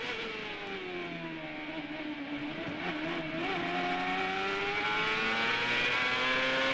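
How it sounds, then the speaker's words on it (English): 2002 CART race car on board at Monterrey, its engine droning at high revs with a rising whine and a brief stutter mid-run as traction control cuts the spark on a curve, then climbing again. "You heard the traction control kicking in there when he got up on the curve just momentarily, cutting the spark of the engine"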